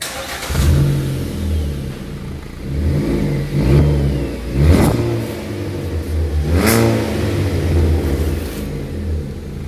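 A Hyundai i20 with a modified exhaust muffler revs repeatedly, its engine rising and falling in several deep, throaty bursts close by, with no talking.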